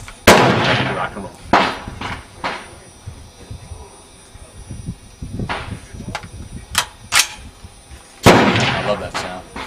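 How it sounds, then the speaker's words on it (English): An Armalite AR-18 rifle in 5.56x45 NATO fires single rounds downrange, each a sharp, loud crack spaced a second or more apart. Outdoor noise sits between the shots, and a few quick shots come close together. "I put some quick rounds downrange"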